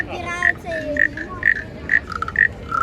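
A toy frog gives a run of short, bright, regularly spaced croaking chirps, close and fairly loud, with faint background chatter at a restaurant in Dubrovnik.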